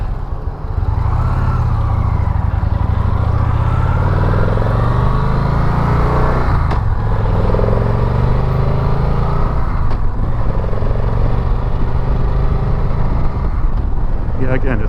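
A 2016 Victory Magnum motorcycle being ridden, its engine a steady low rumble with mild revving swells under a rider's continuous talk, with wind noise throughout.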